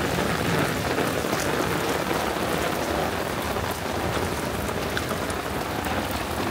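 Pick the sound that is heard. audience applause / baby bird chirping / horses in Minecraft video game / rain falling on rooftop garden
rain falling on rooftop garden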